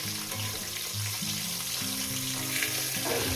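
Fish sizzles steadily in hot oil, a close, continuous crackling fry with a low background hum and no talk.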